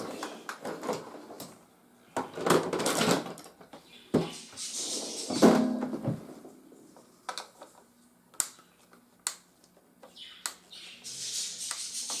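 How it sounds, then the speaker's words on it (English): Screws are removed from a Benelli Lupo or Super Black Eagle III shotgun stock, heard as close, intermittent small metallic clicks, scrapes and handling clatter in irregular bursts, with no talk. "So the next thing you will do is remove both of those screws."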